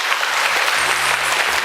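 A showcase audience breaks into applause, a steady, dense burst of clapping at full volume throughout, with a faint low hum beneath it.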